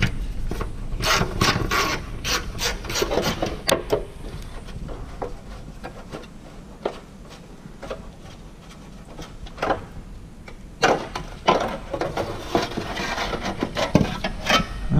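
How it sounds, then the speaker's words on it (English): Heat shield screws being loosened under a Toyota Corolla, with close ratcheting clicks, metallic rubbing and intermittent tool bursts, separated by quieter pauses in a workshop setting. "it's just a matter of removing 3 screws for the heat shield, 2 in the back and 1 up in the front"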